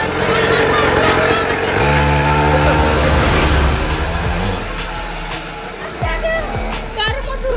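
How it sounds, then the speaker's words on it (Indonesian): A motorcycle engine revs loudly and close at a children's racing session, rising into a strong droning pitch sweep, then easing off and blipping again, with people talking over it. "Sekarang mau suruh ulang pas cabut motornya."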